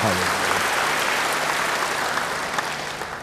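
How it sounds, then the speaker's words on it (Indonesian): A church congregation claps together in a dense, sustained burst of applause that fills the space evenly and slowly tapers off. "Yang percaya beri tepuk tangan yang baik bagi dia."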